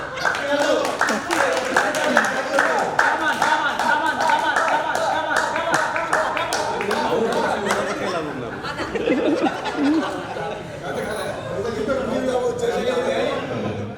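A crowd claps for Anitha during a game at a school batch reunion get-together, with dense, rapid applause for several seconds that fades into laughter and lively chatter.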